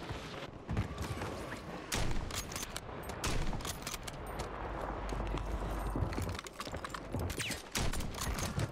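Rapid, sharp gunfire bursts from a sniper and other weapons in Call of Duty on Rebirth Island, crackling densely through the whole stretch with repeated loud transient hits over busy game noise.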